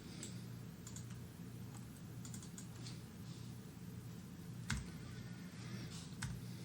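Scattered keyboard key presses tap at irregular intervals, quiet and close, over a steady low hum.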